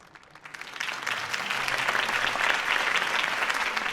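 Crowd applause breaks out after a campaign speech in the Telltale Batman video game, swelling from quiet into sustained, dense clapping that holds steady to the end.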